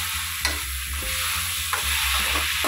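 Tomatoes and onions sizzling in a pan while being stirred for an egg curry, a steady close frying hiss broken by scraping stirs at regular intervals, no voices.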